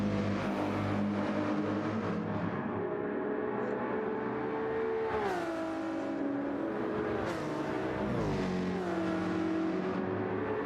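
Ferrari race car engine in Gran Turismo 7 during an endurance race at Yas Marina, roaring loudly and continuously, with clear pitch drops as the throttle lifts and then climbing again under acceleration.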